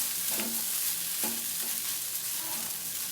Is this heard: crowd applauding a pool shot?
no